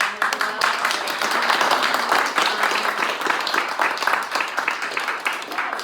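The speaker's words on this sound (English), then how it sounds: "Just want to give them a little bit of applause for coming as well." Audience applause for event volunteers at a book talk, a dense sustained patter of many hands clapping that fills the whole stretch at fairly loud level.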